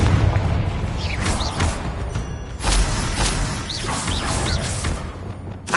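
A Confringo fire-blast spell in Hogwarts Legacy bursts in booming explosions and whooshing magical effects, several impacts in quick succession amid game combat clatter.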